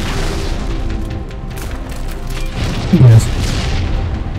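A Hunter Beam weapon in Halo 3 unleashes a black hole blast, a single deep, loud boom near the end over a rumbling low-end game soundscape, with a voice speaking briefly.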